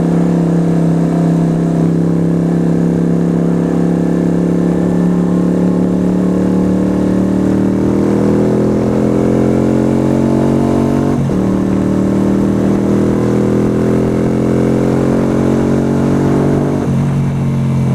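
A motorcycle ridden in the rain: a loud, close engine drone whose pitch climbs steadily, drops abruptly at two gear changes, then rises again, continuous throughout with no talking.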